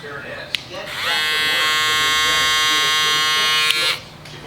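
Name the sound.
Babyliss FX3 electric shaver running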